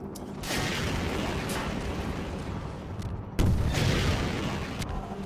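Explosion in the video game Half-Life 2 with a sustained rumbling roar, then a sharp, loud blast partway through followed by more roaring, with no speech.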